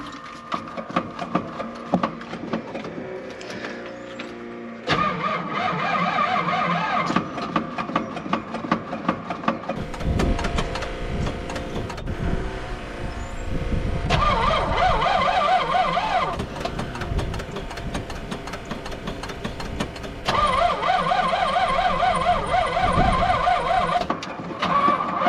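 A '72 Chevy C/50 big block truck cranks in several attempts, with whirring starter bursts and pauses, then catches and runs roughly; no one talks over it.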